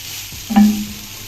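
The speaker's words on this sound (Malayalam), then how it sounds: "ഈർപ്പം ഒന്ന് മാറി കഴിഞ്ഞിട്ട് നമുക്ക് ഇതിലേക്ക് കറിവേപ്പില ചേർത്ത് കൊടുക്കാം" Curry leaves dropped into grated coconut frying in a pan give a brief sizzling burst in the middle, rising over a low steady frying hiss and fading back down.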